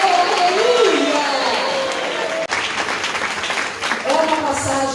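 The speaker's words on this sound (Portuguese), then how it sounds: "podem aplaudir o nome do Senhor Jesus com alegria" A church congregation applauds with enthusiasm in a sanctuary, a steady crowd of clapping hands running throughout while amplified voices and sung or shouted phrases ring out over it, with a brief dropout midway.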